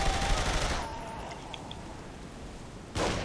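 Dual-wielded SMGs rattle off rapid fire in Saints Row The Third, a dense burst up front that drops to a quieter lull before another sharp volley resumes at the end.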